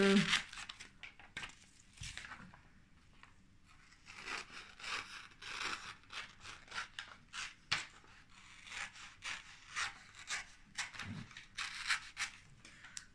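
Scissors cut through canvas to make protective strips before starting a diamond painting, giving a run of close, irregular snipping and rasping strokes with no talk.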